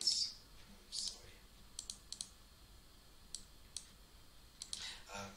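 Sparse computer mouse clicks during a SketchUp software session, a few sharp isolated clicks spread across several seconds, quiet and fairly close, with faint low background noise and no talking.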